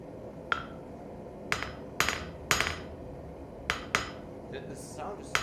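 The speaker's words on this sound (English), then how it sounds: "It's funny how this hammer sounds differently now with the new handle." A hammer fitted with a new handle strikes repeatedly, about eight sharp ringing, slightly metallic hits at an uneven pace over a steady background noise.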